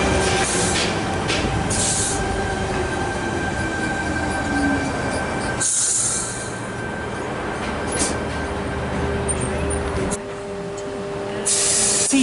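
A Sydney suburban train on a Gordon service pulls into platform 2 at Thornleigh station with a loud, steady rumble, faint squeals and hissing brake bursts, the noise dipping briefly mid-arrival before swelling again.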